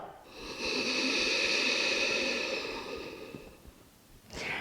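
A long, slow breath out during a yoga sun salutation, a steady airy rush held for about three seconds before fading, close and alone, followed by a brief faint breath.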